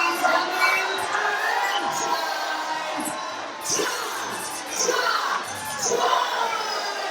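A wrestling crowd at a CCW event in Port St. Lucie, Florida, roars and shouts steadily as a wrestler makes his entrance, with loud cheering swelling in waves and children's yells mixed in.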